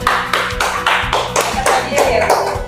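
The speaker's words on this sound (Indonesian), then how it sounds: "Tepuk tangan sekali lagi" A primary school class claps hands together in a classroom, loud and close, in regular rhythmic rounds of roughly five or six beats, with a faint tonal hum and some voices underneath.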